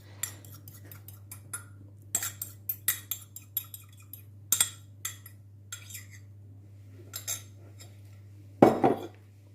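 A utensil mixes Christmas cake batter with four eggs in a bowl, giving irregular close clinks and taps against the bowl with quiet gaps between strokes.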